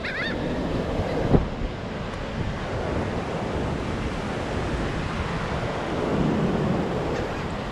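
Surf washing onto a beach, a steady wash of breaking waves with wind noise over the microphone, one brief knock early on and a slight swell in level near the end.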